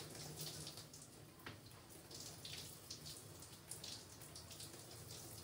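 Water runs steadily over hair as regular shampoo is rinsed out, a continuous close splashing hiss with no voice.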